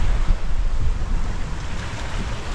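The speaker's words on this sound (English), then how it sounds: "And the sea state has really changed. Gone really windy." Strong wind roars across the microphone with rough, breaking sea surging around a sailboat running downwind in about 18 knots with a double-reefed main, a continuous loud rumbling wash with no voices.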